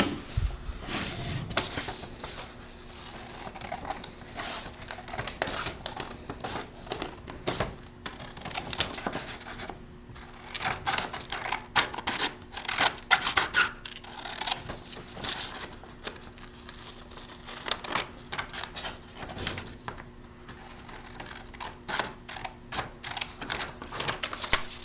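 Students in a classroom cutting out paper with scissors, making scattered close snips and paper rustles throughout, with a faint steady hum underneath and no talk.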